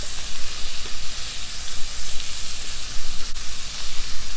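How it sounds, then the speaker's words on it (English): Garlic, peppers and sausages sizzle steadily in a hot pan while being stirred, a continuous close, bright frying hiss with soft scraping movements throughout. "Give those sausages a little toss too while you're mixing the veggies"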